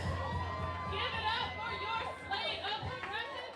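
Crowd at a Denver mayoral election night event, a lively hubbub of many voices chattering and calling out, with some excited shouts rising above the steady murmur.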